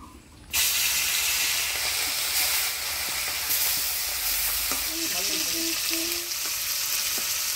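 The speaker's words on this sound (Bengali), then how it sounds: "এবার মাছগুলো ভাজে নিব" Small hilsa fish frying in hot oil in a wok: a loud, steady sizzle and hiss starts abruptly and runs continuously at close range, with faint clinks and a brief tonal sound near the end.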